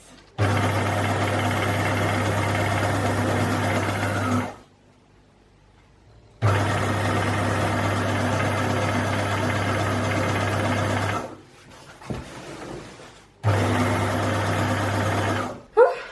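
An old sewing machine hems curtains in fast, loud runs, its motor droning steadily with a low hum, stopping abruptly between three long bursts separated by quiet gaps and a brief rustle.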